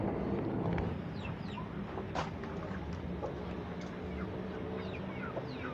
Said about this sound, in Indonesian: Kandang ayam, teman-teman.